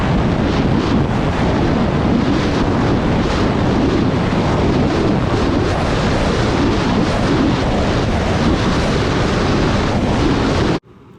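A Kawasaki Ultra jet ski fitted with a Kspeed KS3 ProRace ride plate runs out through an ocean inlet, heavy wind buffeting and rushing spray forming a loud, continuous roar that stops abruptly.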